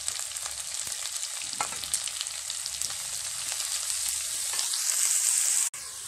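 Small onions, a green chili, curry leaves and carrot sautéing in hot oil, giving a loud continuous close sizzle with light stirring, cut off abruptly near the end.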